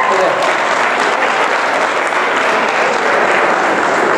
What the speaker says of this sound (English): Give yourself a round of applause for that.